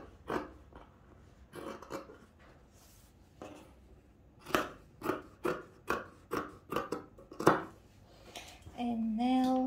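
Scissors cut fabric for a sleeve pattern with a series of crisp, close snips, a few scattered at first and then a rapid rhythmic run of about eight cuts.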